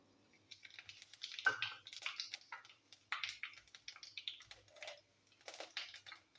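Mustard seeds and cumin crackle and pop in hot oil for tempering a gravy, a close, busy run of sharp, irregular snaps and sizzles without speech.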